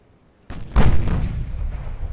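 Warship guns firing high explosive shells in the naval game Ultimate Admiral: Dreadnoughts, a sudden loud crack followed a moment later by a heavier deep boom with a long rumbling tail.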